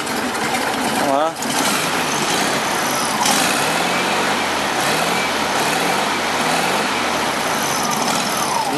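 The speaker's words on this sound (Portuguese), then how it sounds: "Deu partida, tá na marcha lenta" The air-cooled engine of a 1986 Volkswagen Beetle idles steadily with a low, rhythmic chugging, close and continuous throughout.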